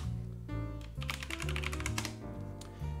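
A command typed on a computer keyboard, a quick run of light key clicks over a steady background hum of music or tones.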